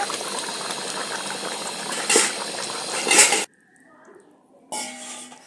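Thin fish curry with papaya and ridge gourd bubbles steadily in a pot, a dense watery boil that cuts off abruptly, then a short near-silence before the bubbling and light clinks return.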